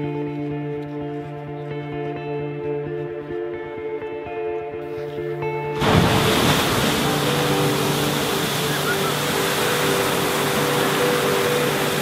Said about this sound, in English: And across the river we go.